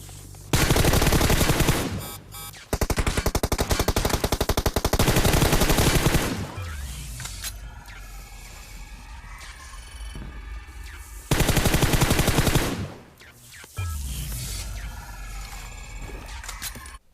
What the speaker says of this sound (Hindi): यहाँ पे मैं गोली चलाते हुए चलता हूँ ताकि डर बना रहे